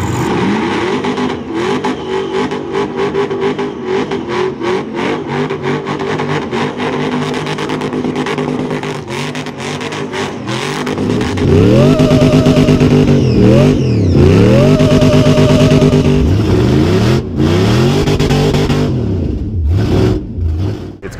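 A supercharged 4.8-litre LS V8 with a big cam and Holley EFI intake, fitted in a Mini Cooper, idles with a lumpy, choppy rhythm, then revs hard several times in loud, close, rising and falling bursts.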